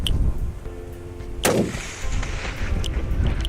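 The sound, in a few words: Ruger rifle shot hitting a target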